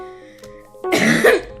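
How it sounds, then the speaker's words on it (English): A person coughs and clears their throat close up, a brief light rasp followed by a louder, harsher burst of throat clearing and coughing. "I have a cough"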